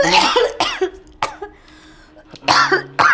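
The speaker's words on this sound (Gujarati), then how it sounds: "બહુ ખાંસી છે" A person coughs in several harsh, close bursts: a cluster at the start, single coughs in between, and another strong pair near the end, with quiet gaps of throat sounds between them.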